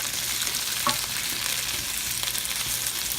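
Vegetables browning in a pan over high heat for a vegan beef bourguignon give a steady, close sizzle with a faint stirring scrape near the one-second mark, and no voices.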